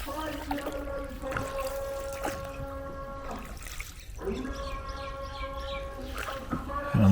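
Water runs steadily from a shower on a cold day, a close continuous hiss and trickle that breaks off briefly midway before resuming, with some speech over it.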